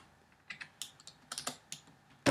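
HTML code being typed on a computer keyboard: a short run of quick, light key clicks at an uneven pace, close up, ending with a heavier thump.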